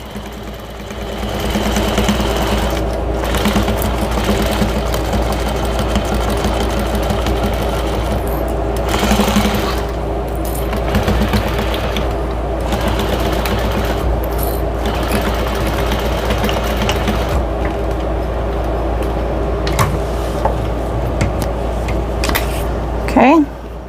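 A sewing machine runs steadily and loudly, stitching a thick quarter-inch seam on a drying mat, with a continuous mechanical whir that slows and hesitates briefly at a few points along the way.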